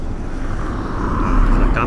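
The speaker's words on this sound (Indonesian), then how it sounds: "nah ini ada mobil lewat" A car passes by on the street in front of a shop, a broad rushing road noise that swells toward the end under steady background hum, with talk mixed in.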